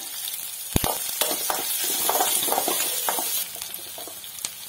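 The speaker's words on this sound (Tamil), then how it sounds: "இப்ப இடிச்சு வச்சிருக்க பச்சை மிளகாவும் பூண்டும் போட்டுக்கலாம். நல்லா வதங்கட்டும்" Crushed green chili and garlic sautéing with onion for a yellow pumpkin side dish: a close, bright sizzle with a few sharp spatula knocks and scrapes against the pan.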